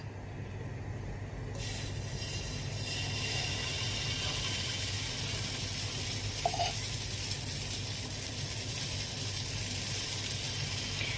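Sooji appam batter poured into a hot pan wiped with a tissue instead of oil, giving a steady close sizzle that holds at the same level throughout with no talk.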